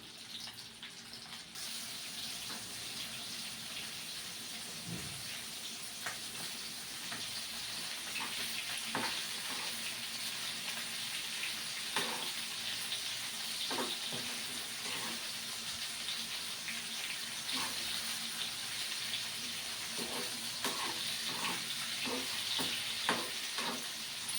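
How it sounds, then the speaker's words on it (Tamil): Chicken pieces for chicken 65 sizzle and crackle steadily in hot oil, with scattered clinks and scrapes as the pieces are turned over, all close and without speech. "மாற்றி போட்டுக்கிப்போம், நல்லா ஃப்ரை ஆகட்டும்."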